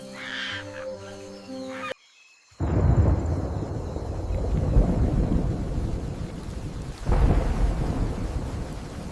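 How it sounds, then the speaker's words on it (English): A thunderstorm breaks over the Amazon rainforest. Rain roars steadily and deep thunder rumbles loudly after a sudden cut from a brief bird call. A second thunder swell comes later. "The storm of the century descends."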